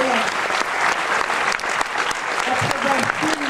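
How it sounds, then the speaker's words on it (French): Sustained audience applause fills a Paris master class hall as actor Donald Sutherland walks onto the stage, loud and steady throughout with dense clapping from a large crowd. "je vous demande d'applaudir à nouveau Donald Sutherland, qui arrive sur cette scène"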